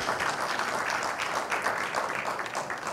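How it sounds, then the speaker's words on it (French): Audience at a ciné-club screening applauds a performing group as they take the stage, a dense, even wash of many hands clapping at moderate distance throughout, with no pause. "Applaudissez pour eux."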